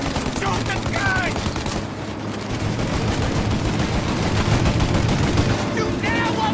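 Rapid gunfire from a shootout in the video game Mafia Definitive Edition, a dense continuous stream of shots and bursts over a steady backdrop, with voices shouting in the mix.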